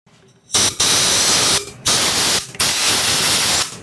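Compressed air from an air nozzle blasts dirt off a Murray M2510 string trimmer carburetor in three loud, steady hissing bursts separated by short pauses.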